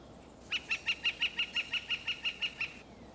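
A red-shafted flicker woodpecker gives a rapid series of about twelve evenly spaced, piercing call notes, loud and close, then goes quiet, with no talking.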